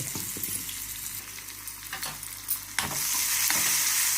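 Onion and asafoetida fry in hot oil for masoppu sambar, a loud close sizzle with scattered stirring scrapes that swells into a fuller hiss near the end, no voices.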